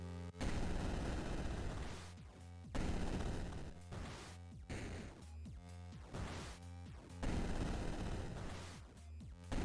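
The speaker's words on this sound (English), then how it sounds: "Wow, all of those rockets hit the platforms." Rockets slam into platforms in a video game as repeated bursts of crashing, crackling impacts and explosions, loud and close, separated by brief sharp gaps.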